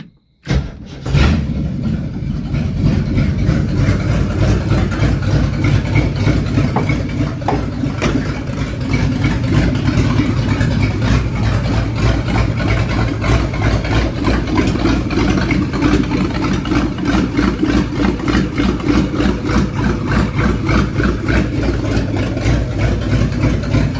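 A 1969 Ford Mustang V8 engine with no exhaust fitted rumbles steadily at idle with a loud, raw, unmuffled roar and a low throbbing beat that holds unchanged for the whole stretch.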